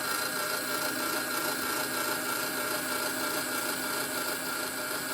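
A string winder turning a nylon guitar string onto the tuner makes a continuous close whirring and rubbing, steady and even, without speech.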